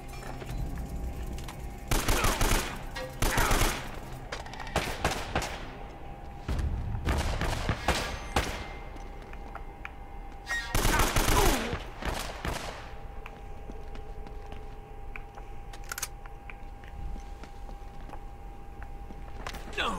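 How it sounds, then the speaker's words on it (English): Scattered gunshots and short bursts of fire crack in irregular clusters amid a combat soundscape in Uncharted Drake's Fortune, with quieter stretches between the volleys. "Where is this guy shooting me from?"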